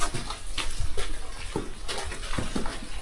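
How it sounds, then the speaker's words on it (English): Water flowing inside a goat cave, a continuous rushing wash with scattered louder splashes and knocks, fairly close and steady throughout. "I hear water."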